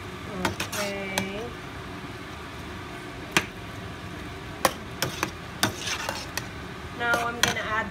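Chicken sotanghon noodles stirred in a boiling pot, with scattered clinks and scrapes of a utensil against the pot over a steady bubbling bed, plus brief sizzling bursts.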